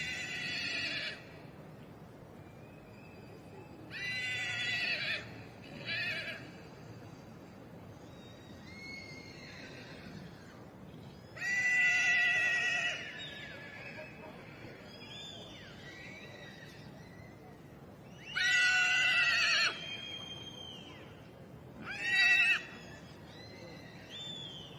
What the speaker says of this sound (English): I do love seeing the foals following their dams in the main ring.